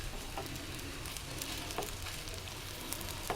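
Opputtu, a sweet flatbread, frying on a pan over a low flame, with a steady soft sizzle and occasional light crackles throughout.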